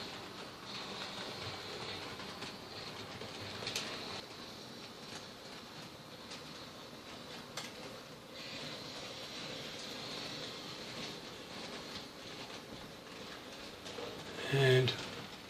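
A model freight train runs quietly on a layout with sidings for a coal mine, power plant and water plant, giving a faint continuous rolling rumble with an occasional click, and a voice murmurs softly.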